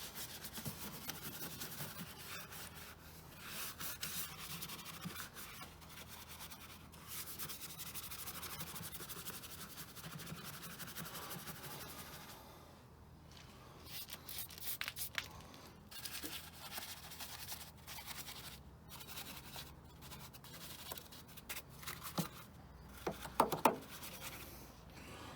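A brush scrubs around a car's engine bay, airbox, battery and scuttle panel, making quiet, steady rubbing strokes broken by short pauses, with a few sharper knocks near the end.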